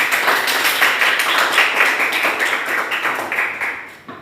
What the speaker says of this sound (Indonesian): Tepuk tangan kelompok Bayu dulu